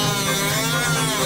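A power tool buzzes steadily and loudly as it cuts through the crash-damaged front wing of an Audi RS6, a continuous close-up grinding whine with no pauses.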